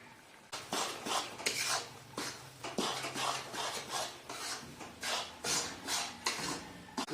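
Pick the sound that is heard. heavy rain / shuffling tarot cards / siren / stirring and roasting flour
stirring and roasting flour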